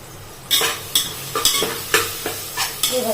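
A spoon scrapes through garam masala, coriander powder and cumin powder in a frying pan, about eight crisp stirring strokes in a steady rhythm over a faint sizzle, close and clear.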